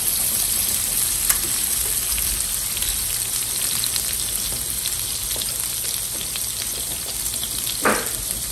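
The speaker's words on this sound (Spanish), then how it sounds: "Le voy a agregar una cucharada de mantequilla en una olla o en un sartén." Butter melts in a pan or pot with a steady, even sizzle that runs unbroken throughout, with a faint scrape or clink near the end.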